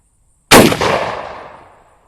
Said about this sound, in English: Never shot this particular Mosin before.